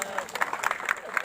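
Audience clapping at a temple consecration ceremony for Jeen Mata and Harsh Bhairu, uneven bursts of claps at moderate loudness mixed with a crowd murmur.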